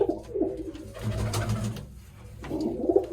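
Pigeons cooing close by in soft, throaty bursts, with a brief pause in the middle before the low rolling coos return.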